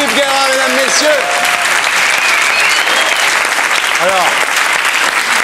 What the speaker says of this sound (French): On applaudit l'expert Philippe Guérin, mesdames, messieurs.